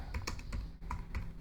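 Rapid, uneven keystrokes on a computer keyboard while working in an Excel spreadsheet, a string of close, light clicks tapping steadily for a moment with no voice over them.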